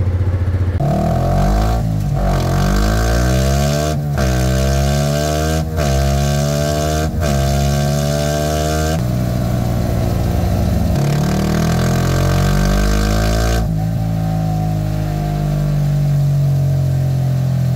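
A motorcycle engine running at low RPM after an exhaust pipe and elbow change, loud and close, with repeated revs rising and falling and uneven popping and sputtering from the exhaust.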